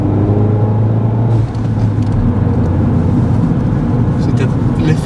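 Peugeot 308 GTi turbocharged petrol engine while driving, a steady loud in-cabin drone and road rumble with a slight dip and pickup in tone, under continuous talk between occupants.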